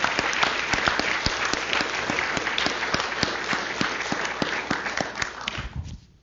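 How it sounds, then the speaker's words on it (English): Dense, steady applause from an audience at a physics talk and celebration event, many hands clapping loudly for about six seconds before quickly dying away. "So let's have a round of applause for everyone."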